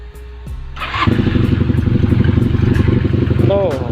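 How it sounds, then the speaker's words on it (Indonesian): A Honda CB 400 DOHC motorcycle cranks with a whirring starter, catches and settles into a steady, close rumbling idle; a short voice is heard near the start. "Sekarang kita coba hidupin motornya dulu."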